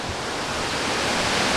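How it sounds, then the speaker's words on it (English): A big waterfall in the North Carolina Highlands roars as a dense, steady, close wash of falling water with no voices over it. "There's the waterfalls. This is one big waterfalls."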